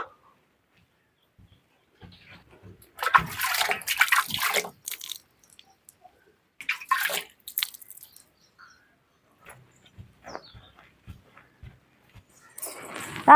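Radishes are washed by hand in water, with intermittent splashes, drips and sloshing close up, separated by quiet gaps.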